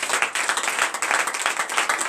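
A church congregation at a morning prayer service clapping and cheering in praise, a dense, steady wash of many hands with raised voices mixed in, sustained throughout.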